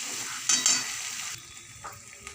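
Cashew-raisin paste added to fried peanuts in a pan, a bright sizzle at first, then stirring scrapes and quieter frying that settles to a low crackle.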